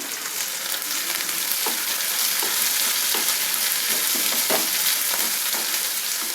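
Chopped capsicum sizzles loudly in a hot pan while being stir-fried for a diet bisi bele bath, a steady close frying hiss broken by repeated scraping clicks of a spoon.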